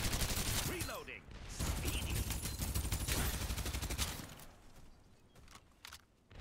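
Rapid volleys of automatic gunfire in a shooter video game, loud dense bursts rattling almost continuously before tapering off near the end, with no one speaking over them.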